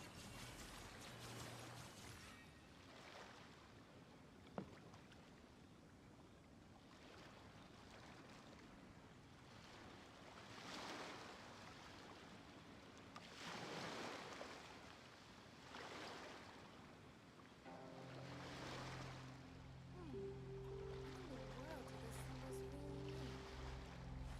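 Ocean waves in Genshin Impact wash in repeated surges, each swell rising and receding every few seconds at moderate distance, quiet overall, with soft game music tones entering toward the end.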